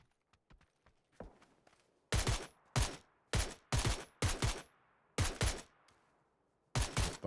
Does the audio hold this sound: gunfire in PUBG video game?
yes